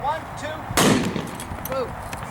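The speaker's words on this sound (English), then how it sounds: "On the count of 3, a 45 caliber blank, I'm going to knock that can. When I shoot this, the can's going to hit the ground." .45 caliber blank fired from a handgun at an aluminum can outdoors: a single sharp, loud report that cuts off quickly, with faint voices around it.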